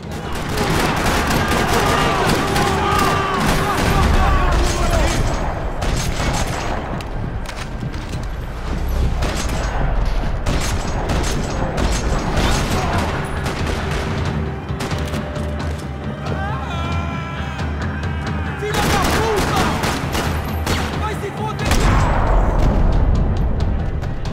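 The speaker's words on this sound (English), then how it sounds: "Another parking lot rattling with gunfire." Sustained, dense rapid gunfire and explosions in Max Payne 3 fill the whole stretch, loud and continuous, with game background music layered underneath.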